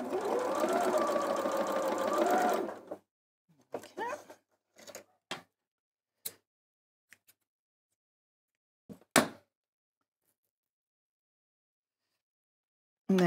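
A sewing machine stitching fabric pieces together, a steady mechanical whirr for about three seconds, then short bursts and taps before quiet.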